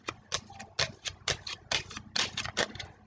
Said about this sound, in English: if you heard the shuffling right here